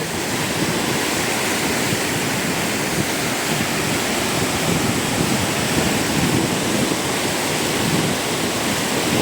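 Water pours forcefully over the Thalaiyanai dam at Papanasam, a dense, continuous roar heard up close and without pause, with no voices over it.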